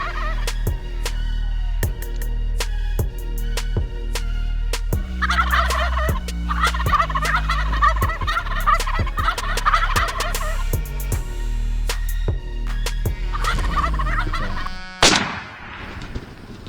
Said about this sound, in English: We had turkeys on both sides of us and these came to fight the one that was behind us.